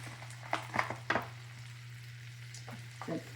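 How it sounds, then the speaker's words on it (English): Butter, garlic and thyme sprigs sizzle as they go into a hot pan for basting fish fillets, with a few sharp crackling bursts early on, then a steady low frying hiss and softer spatters near the end. "now I'm going to put in this butter, the garlic,"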